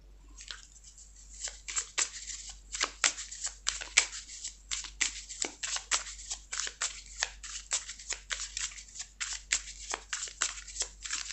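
Tarot cards are shuffled and drawn by hand, with a close, crisp series of rapid riffling snaps and flicks repeating irregularly over about eleven seconds with quiet gaps between.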